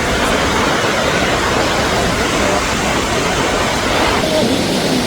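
Asen Falls in Sigay, Ilocos Sur, roars as a dense, unbroken wash of falling water, loud and close, holding steady for the whole stretch.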